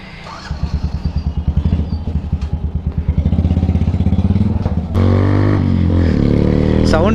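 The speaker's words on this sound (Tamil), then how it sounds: "இப்போ இந்த பைக் நம்ம ஒரு ரவுண்டு ஓட்டி பார்க்கலாம்." Yamaha FZ motorcycle with a modified exhaust, close by, idling with a rapid popping burble that builds into a loud sustained rev, then jumps to a higher, harsher roar as it pulls away.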